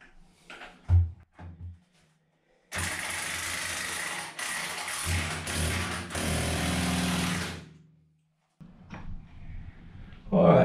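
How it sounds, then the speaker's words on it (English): DeWalt 18-volt impact driver hammering loudly and steadily for about five seconds as it drives an anchor bolt into concrete, with a few knocks and handling sounds before and after. "this is my old 18-volt DeWalt impact"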